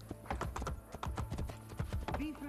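Rapid, irregular hoof clops of a guard's horse in Assassin's Creed Brotherhood, close and crisp, repeating over a steady low hum, with faint tonal game sounds at the end.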